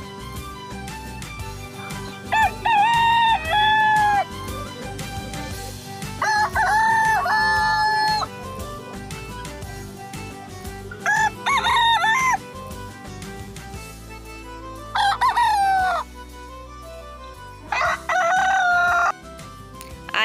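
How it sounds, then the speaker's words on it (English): Chickens: a rooster crows about five times at steady intervals, loud and close, over a low farmyard background. "H for hen."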